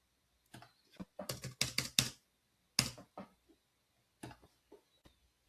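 Someone types on a computer keyboard, with quick bursts of clicky keystrokes, a pause, then a few scattered taps, close and clear.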